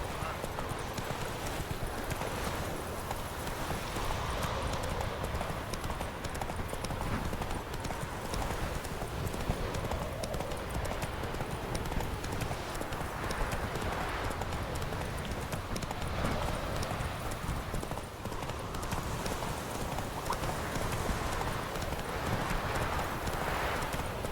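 A horse galloping in The Witcher video game, steady rapid clip-clop hoofbeats running continuously throughout, with an occasional whinny and a voice talking over the top.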